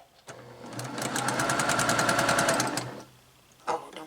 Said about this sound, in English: now I'm going to assembly line sew all of my fabric B